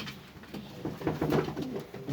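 Soft, low pigeon coos repeat in a steady rhythm, close by, with no talking.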